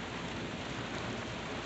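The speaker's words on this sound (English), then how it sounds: "The rain's getting kind of big drops." Heavy thunderstorm rain with big drops falls in a steady, dense hiss outdoors near a porch, constant and fairly loud with no voices.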